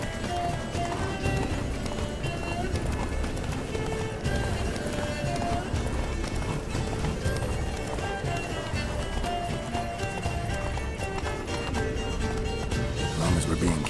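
Roach, Geralt's horse in The Witcher 3, gallops with steady clip-clop hoofbeats and the odd whinny, loud and continuous under game music and voices talking.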